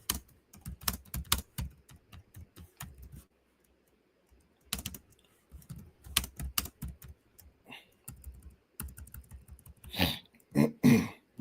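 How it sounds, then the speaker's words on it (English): Bursts of close computer-keyboard typing come in quick clustered runs with short pauses between them, and a couple of throat-clearing or cough-like sounds follow near the end. "I'm typing them."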